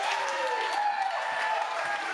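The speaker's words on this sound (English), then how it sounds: "Good crowd. That's why I love this crowd. They're always so loud." A loud crowd at a wrestling match roars and claps steadily throughout, a dense wash of cheering and applause heard from within the audience.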